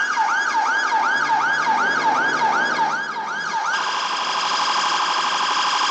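A loud two-tone wailing modern British police car siren sweeps up and down repeatedly, then shifts to a faster, higher steady pattern, close and alone.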